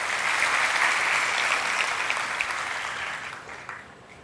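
Steady, dense applause from a crowd after children perform an action play at an Independence Day celebration, loud and continuous, then thinning and fading toward the end.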